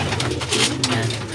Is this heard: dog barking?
no